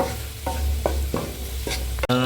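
Gold finger fry is stirred in a hot pan with a continuous sizzle. Several scraping strokes of the spoon stand out against it, and a brief tonal sound comes at the very end.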